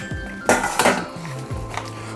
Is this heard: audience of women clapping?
no